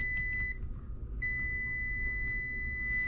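An electrical tester rings out with a steady high-pitched continuity tone during troubleshooting of bathroom and bedroom outlet wiring, briefly cutting out then resuming over low background hum, with no talk.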